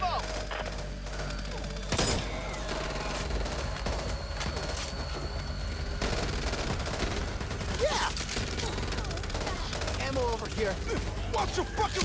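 Zombie-shooter gunfire from Back 4 Blood crackles in rapid, dense bursts throughout, loud and close, with sharp impacts and occasional voices mixed in.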